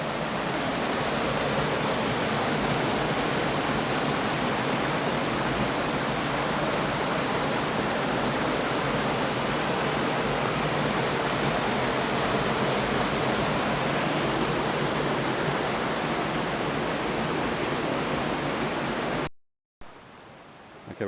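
Oxford Falls Cascades waterfall in Sydney, a loud, steady, full roar of rushing water that continues unbroken, then cuts off abruptly near the end.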